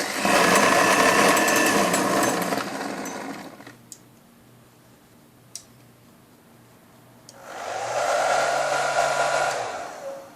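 A hair dryer blows loudly with a steady whooshing roar, cuts off for a few seconds with faint clicks, then starts up again, switched through an AVR GSM control board.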